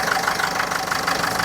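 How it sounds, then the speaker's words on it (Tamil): A 2012 Ford Figo's engine idles steadily and close by, a continuous mid-pitched hum with a faint regular ticking pulse and no voices over it. "அட்டகாசமாக ஒரு இன்ஜின்"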